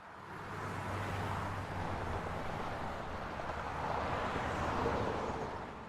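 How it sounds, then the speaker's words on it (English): Traffic ambience sound effect: a continuous broad roar of road traffic with low engine rumble, swelling gently as vehicles pass, steady and fairly loud with no voices. "I'm using this one for the traffic ambience."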